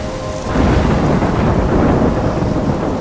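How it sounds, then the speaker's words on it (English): A loud thunderstorm from the video game Life Is Strange rumbles continuously with heavy rain and low, rolling thunder, dense and close throughout with no speech. "I'm trapped in a storm?"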